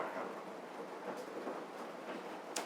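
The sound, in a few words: heavy rain on a greenhouse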